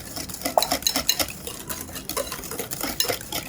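A spoon or whisk stirs Burnt Basque cheesecake batter in a bowl, with quick repeated scraping and clinking against the bowl, close and steady with no talk.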